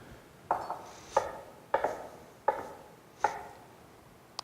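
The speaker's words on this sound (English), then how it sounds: "I'm going to put a little bit of flour on my knife, which is going to help it not to stick to my knife quite as much as I cut it" A knife dusted with flour slices through cheese on a board, five crisp cuts landing at a steady, unhurried pace, each a sharp tap close by with a short scrape after it, quiet between strokes and with no voices.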